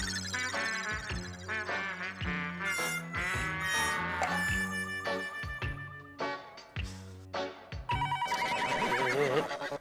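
A mobile phone rings loudly in a repeating electronic ringtone pattern with steady rhythmic pulses, continuing throughout with a busier tonal passage near the end.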